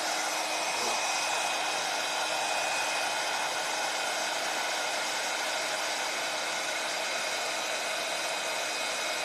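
A heat gun blows a loud, steady roar with no break while heating metallic paste pushed through a stencil on a wooden box so the paste puffs up.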